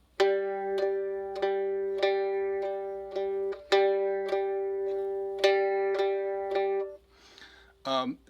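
Plucked mandolin notes ring out in groups of three, the first of each group accented in a lilting jig rhythm, ending with a brief voice.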